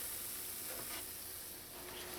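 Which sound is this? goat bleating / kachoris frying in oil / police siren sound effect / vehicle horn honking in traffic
kachoris frying in oil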